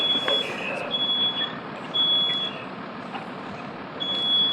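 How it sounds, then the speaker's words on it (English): Smoke detectors sound during a live fire safety demonstration in a room at Salem State University, giving repeated high electronic beeps over a steady rumbling background, the beeps returning in bursts throughout. "you hear the smoke detectors going off at this time"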